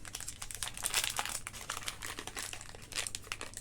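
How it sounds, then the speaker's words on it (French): Paper packaging from an online-shopping haul crinkles and crumples continuously at close range, with a dense, irregular rustle and crackle throughout. "j'ai pas fait beaucoup de bruit de papier"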